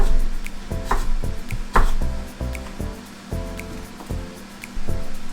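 A knife slicing fruit for the dehydrator, heard as a steady series of close, crisp cuts against a board in an uneven rhythm, with no talk.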